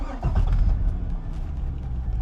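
A base-model Chevrolet C6 Corvette with a quiet stock exhaust fires up and idles, giving a steady, close low engine rumble with a brief rise in revs at the start.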